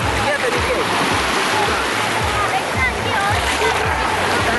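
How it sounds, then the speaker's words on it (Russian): Feet wading through shallow sea water at a busy Alanya beach, with steady splashing and sloshing close by over a broad wash of surf and crowd, and voices talking in the background. "Иду по воде."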